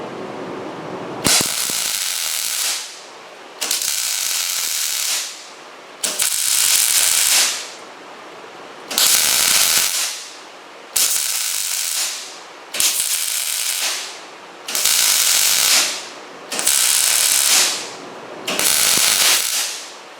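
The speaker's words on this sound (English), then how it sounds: "I don't know if you guys can see that stitch weld in there." MIG stitch welding with a Millermatic 210 welder, showing eight loud crackling, hissing arc bursts of about one and a half seconds each, separated by short quiet gaps in an even rhythm, close up and without talk.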